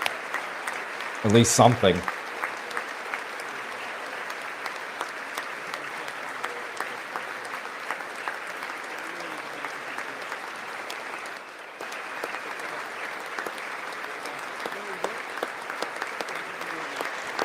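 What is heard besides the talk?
applause at the President's State of the Union speech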